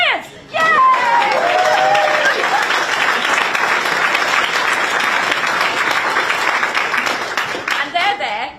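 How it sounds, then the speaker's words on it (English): A large audience at a Green Party leadership event bursts into loud, sustained clapping with some cheers and whoops, continuous for several seconds, while a voice speaks over it at the start. "you're going to have to clap again now"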